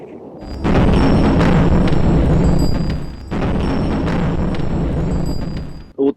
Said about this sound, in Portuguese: Outra explosão agora com rajada de tiros também.